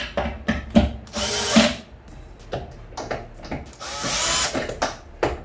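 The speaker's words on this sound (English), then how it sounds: "don't constantly drill at the final bit" Cordless power drill driving screws into a cabinet door hinge, several short whirring bursts with ratcheting clicks and brief pauses between them, close and loud, no talking.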